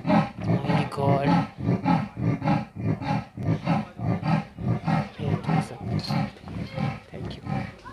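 A leopard at Nainital Zoo gives a rhythmic series of harsh, rasping roars, like sawing, repeated steadily at close range and fairly loud, with no talking over it.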